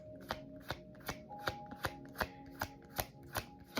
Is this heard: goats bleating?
no